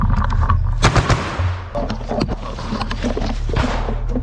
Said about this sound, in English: The mortar is firing